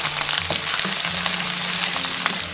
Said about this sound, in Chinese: 热锅倒油，油热过后下入蒜白姜片。 萝卜干调香